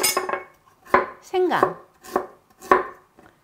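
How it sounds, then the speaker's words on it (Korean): A knife chops ginger on a board while a kimchi is prepared, making several crisp, close knocks with short pauses between them and one brief scraping sweep. "생강은 조금 잘게 썰어 주세요."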